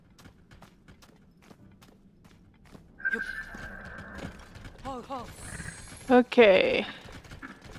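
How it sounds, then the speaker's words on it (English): Skeleton horses in the video game Zelda Tears of the Kingdom: hooves clip-clop among mechanical clanks and a short whinny-like call, fairly close, while a voice speaks briefly. "they're basically just skeleton horses"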